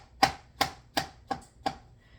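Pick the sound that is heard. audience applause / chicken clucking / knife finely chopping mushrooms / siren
knife finely chopping mushrooms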